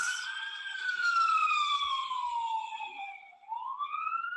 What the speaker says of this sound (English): you simply push the picture and you get the fire engines